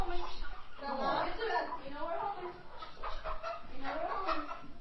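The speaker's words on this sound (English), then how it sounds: "Lopez and his 11-year-old daughter Maria herd chickens into a pen in their newly repaired barn" Chickens clucking and rustling as they are herded into a pen inside a newly repaired barn on a small Nebraska farm property, with people talking over the birds throughout.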